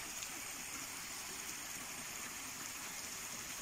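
A waterfall on a river where people are fishing for seluang fish rushes in a steady, even roar of falling water, continuous and moderately distant, with no voices over it.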